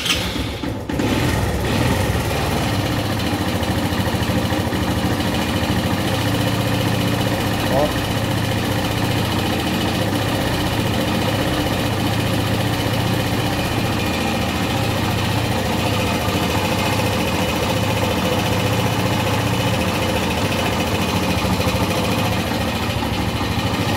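Suzuki Intruder 125 motorcycle engine running roughly with worn internals and loose play, a steady close mechanical clatter and knocking idle that continues throughout, with someone talking over it.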